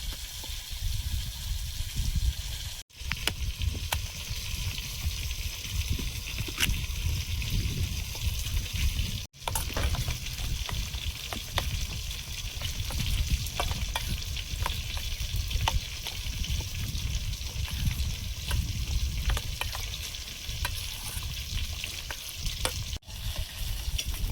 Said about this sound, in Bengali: মাছগুলো ভাজা হয়েছে, প্লেটে তুলে নিচ্ছি